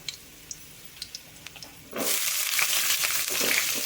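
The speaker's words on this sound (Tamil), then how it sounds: "வெங்காயம் பச்சை மிளகாயும் நான் சேர்த்துக்கிறேன் நல்லா எண்ணெயிலே நல்லா வணங்க விட்டுருங்க" Chopped onion and green chilli drop into hot oil. After a few quiet crackles, a loud, sustained sizzle bursts up and keeps spitting close by, with no talking.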